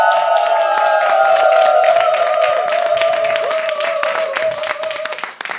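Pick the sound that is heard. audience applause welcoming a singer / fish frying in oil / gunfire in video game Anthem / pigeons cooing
audience applause welcoming a singer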